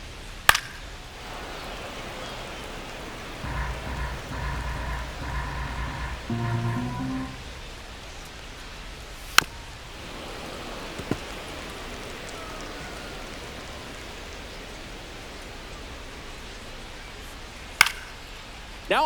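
Rain falls steadily on a baseball field in MLB The Show 25, a soft continuous hiss throughout, broken by a low clattering patch and a few sharp isolated ticks.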